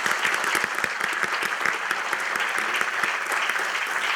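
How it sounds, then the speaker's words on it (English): A room full of people at a Board of Education monthly meeting claps in sustained, dense applause that holds a steady level from start to finish. "let's give a round of applause to Mike"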